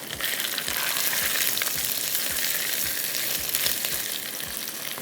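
Fried beef returned to a hot pan for black pepper beef gives a loud, dense, continuous sizzle and crackle, heard up close with faint stirring ticks and no talking.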